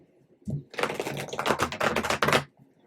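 A deck of tarot cards being shuffled up close, producing a dense, rapid crackle of flicking cards that runs for about two seconds before stopping, with no one talking.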